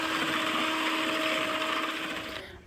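An electric mixer beats cake batter made with butter, giving a steady, close mechanical whir that holds even and then winds down at the end.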